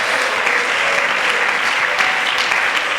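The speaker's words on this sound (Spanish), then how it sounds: "Dale aplausos a la gloria de Dios." Loud, steady applause from a church congregation during a Sunday school service, a continuous dense roar of many hands clapping that fills the whole stretch without pause.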